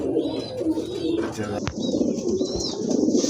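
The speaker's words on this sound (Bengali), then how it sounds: "খুবই সুন্দর এক জোড়া বিগ সাইজের দেখতে পাচ্ছেন কবুতর লাহোরি কবুতর ইউরোপিয়ান টয়লাহরি" A big pair of Lahori pigeons, European toy Lahori type, coos in soft, low, steady murmurs, close and continuous, with faint background voices and small chirps mixed in.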